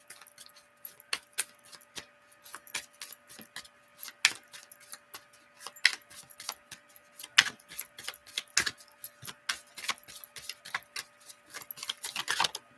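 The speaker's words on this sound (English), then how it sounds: "I'm still shuffling until it gives me an idea that it's finished" Cards handled and shuffled for an oracle or wellness card reading, giving a long run of dense, irregular crisp clicks and riffling snaps that grow busier toward the end, close and fairly quiet with no speech.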